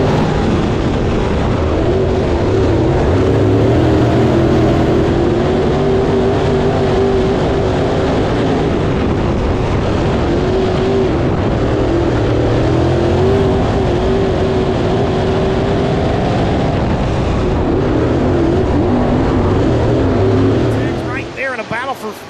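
A pack of race cars roars at Southern Raceway on a restart, a loud sustained engine drone with shifting pitch as they accelerate, an announcer talking over it before the sound fades near the end.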